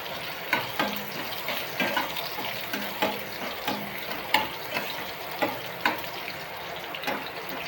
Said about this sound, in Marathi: लसूण पण चांगलं भाजून घ्यायचा.